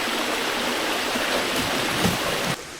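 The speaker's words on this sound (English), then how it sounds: "just beyond there is our waterfall" Steady, broadband rush of a jungle waterfall in Costa Rica, loud and constant, close by, cutting off abruptly near the end.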